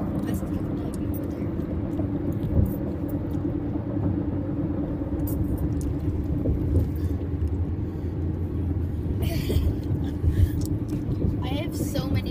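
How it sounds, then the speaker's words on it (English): A car engine idling in a low steady rumble that lasts throughout, close and continuous, with people talking over it. "Now I'm vlogging the car running."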